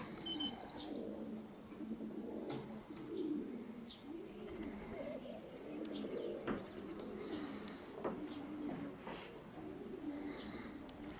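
Racing pigeons at a loft coo repeatedly while picking up scattered grain, with soft rolling coos in an uneven rhythm close by, light chirps and small shuffling sounds around them.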